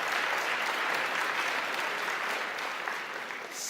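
Sustained audience applause fills a public forum hosted by medical providers in Shasta County, California, a dense, steady clatter of many hands that stays loud throughout and fades only slightly at the end.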